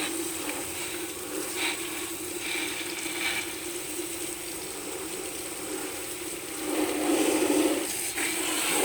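Pressurized water sprays onto the seat seal of a Bajaj motorcycle, a steady close rushing hiss that swells louder toward the end, with faint mechanical rattles and no talking.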